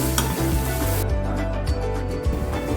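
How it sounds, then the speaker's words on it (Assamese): Finely chopped onion hits hot oil and spices in a pan on low flame and is stirred, a steady close sizzle broken by scraping stir strokes, no talking. "আৰু অকণমান দিম সৰুকৈ কটা পিঁয়াজ এবাৰ লৰাই ল'ম"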